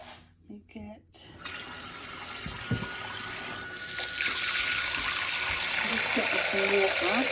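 Tap water runs steadily into a sink after a few quick clunks, the flow growing slightly louder as it fills, with a voice speaking briefly.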